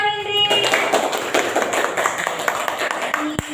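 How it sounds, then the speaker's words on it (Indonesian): Classroom children clap in applause for a classmate, a burst of many overlapping hand claps of moderate loudness lasting a few seconds, with a voice briefly heard at the end. "Tepuk tangan buat Indri."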